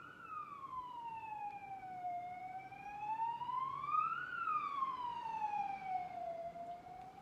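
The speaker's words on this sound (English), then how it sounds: "There is a siren coming." An ambulance siren wails in slow rising and falling sweeps, fairly distant but growing slightly louder.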